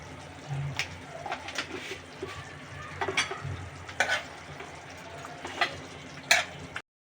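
Chicken curry cooking in a pan gives a steady low sizzle with intermittent scraping stirs and clinks of a spoon against the pan, close and fairly quiet, with no talk.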